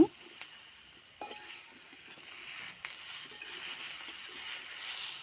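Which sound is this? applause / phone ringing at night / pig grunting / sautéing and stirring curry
sautéing and stirring curry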